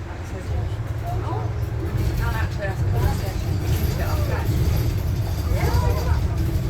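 A bus engine rumbles steadily while riding along a street, with continuous road noise and faint mechanical sounds underneath throughout.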